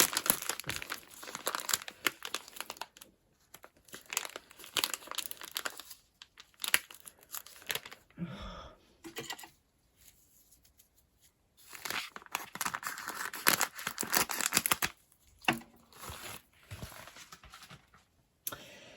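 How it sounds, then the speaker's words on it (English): A package is opened close up with loud crinkling and tearing of plastic wrapping, coming in irregular bursts with short quiet pauses between them. "Right, so I've opened the package."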